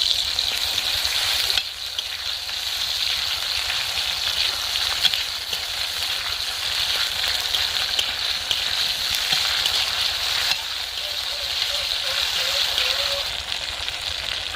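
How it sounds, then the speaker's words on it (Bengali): Tomato and ginger paste frying in very hot oil for a vegetarian Bengali fish-style curry, a steady dense sizzle running throughout at close range, with faint incidental movement and no talk. "তেলটা খুব গরম আছে এই কারণে টমেটো দিচ্ছি মশলাগুলো যাতে গলে না যায় আদার পেস্ট দিয়ে দিচ্ছি"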